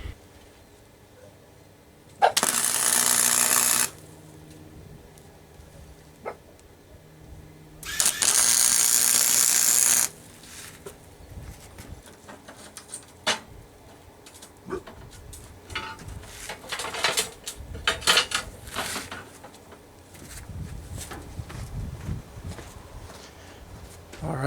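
A Harbor Freight 68887 flux core welder lays tack welds on half-inch steel plate, giving two loud bursts of crackling, hissing arc noise of a second or two each, separated by quieter shop sounds and some talk.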